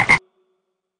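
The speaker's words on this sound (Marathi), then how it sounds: "बेडू तो ओरडला डरावडू" A frog lets out a single short croak, close and fairly loud, followed by silence.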